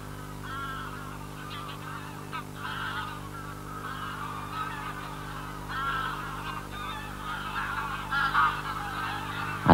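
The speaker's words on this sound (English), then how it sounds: "grey-lag geese arrive from Iceland, driven out by the Arctic chill" Greylag geese honking in a loose flock, calls rising and falling over a steady low rumble, moderately distant with a few louder bursts toward the end.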